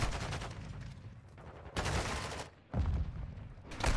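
Gunfire in a ranked multiplayer video game: rapid bursts of automatic weapon fire in several separate volleys with short gaps between them, fairly loud, with no talking.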